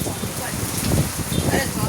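Heavy rain pours down in a dense, steady hiss, with a faint voice murmuring beneath the downpour.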